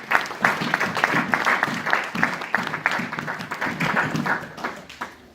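Church congregation clapping and applauding the Lord during a French-language evangelistic service, a dense, steady wave of many hands clapping with crowd voices mixed in, sustained and fairly loud before fading slightly at the end.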